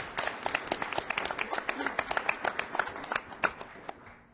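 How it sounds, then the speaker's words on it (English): Scattered applause from a modest crowd at a school committee meeting, steady individual claps at moderate distance, fading out near the end. "let's give a clap"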